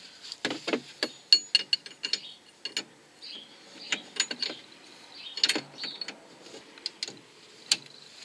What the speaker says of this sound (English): tighten the lock nut.